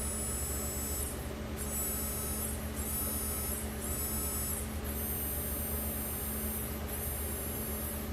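A small SCX24 Torquebeast 050 brushed motor spins at full throttle, giving a faint, high, thin electric whine held in several steady stretches over a low background hum.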